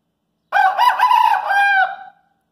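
A Japanese silkie rooster crows once, close and clear, a single drawn-out call of about one and a half seconds in an otherwise quiet setting.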